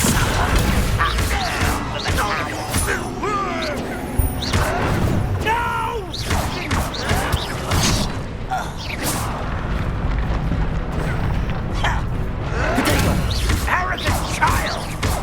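Dense, loud combat in Hogwarts Legacy as the Descendo spell slams an enemy, with heavy booming crashes and impacts layered over game music and effects, while voices speak throughout.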